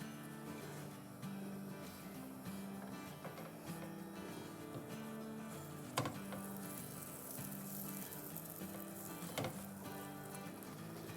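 Butter sizzles steadily in a pan of pav bhaji as it is stirred, a continuous close frying hiss with faint scraping and occasional soft taps of the utensil, no voices.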